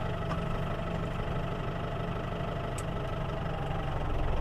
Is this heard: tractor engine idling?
yes